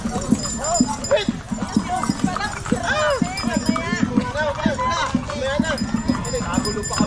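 Horses galloping in a traditional village fiesta horse race in Barangay Nag Sinamo, hooves clip-clopping in a fast patter beneath loud, continuous crowd voices and chatter.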